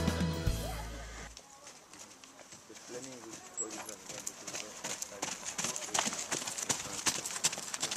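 A foal trots at a stud farm's foal show, its hooves clip-clopping in a quick, light rhythm at moderate distance while a commentator talks over it.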